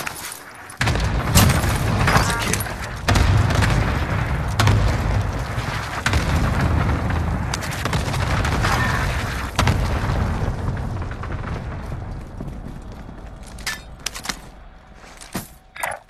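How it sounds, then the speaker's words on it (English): Cluster strike explosions thunder across Rebirth Island in Call of Duty, a rapid string of loud booms rolling over several seconds before thinning into scattered distant pops and faint battlefield noise. "Designating target for airstrike. This is loader 2-0. Good copy. Cluster strike away."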